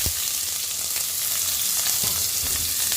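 Peanuts and roasted gram frying in a pan give a dense, loud, continuous crackling sizzle, close and even throughout, with faint stirring knocks and no voices.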